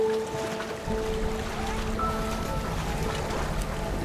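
Ganges river water and boats at Varanasi, a continuous wash of water and engine drone, with faint tonal hums and horns carried across the open river, steady and moderately loud with no talking.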